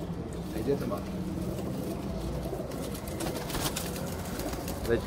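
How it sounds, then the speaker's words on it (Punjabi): Low, rumbling coos of Imam Sahib breed pigeons repeat throughout, with a steady background hum and some voices mixed in. "ਇਹਨਾਂ ਕਬੂਤਰਾਂ ਨੂੰ ਇਮਾਮ ਸਾਹਿਬ ਵਾਲੀ ਬਰੀਡ ਕਿਹਾ ਜਾਂਦਾ ਹੈ"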